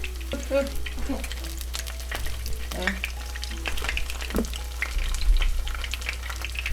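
Coconut-coated shrimp crackle and pop in hot oil with irregular sizzling bursts over a low steady hum, close by, with brief scraping sounds.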